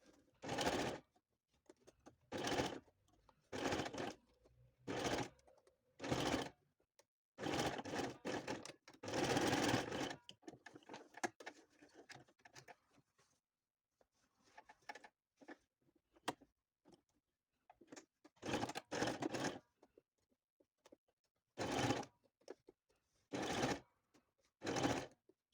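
A sewing machine stitches through old denim jeans fabric in short, close bursts separated by quiet pauses, each run a quick rattling whir that starts and stops repeatedly.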